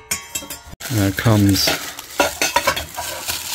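A metal camping mess kit with several pans clinks and rattles as its pieces are handled, with a brief bright clatter close by while someone speaks over it.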